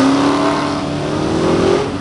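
A plum-colored Dodge Hellcat muscle car with 700 horsepower accelerates hard and pulls away, its engine roaring loud and steady with a rising tone throughout, no talk over it.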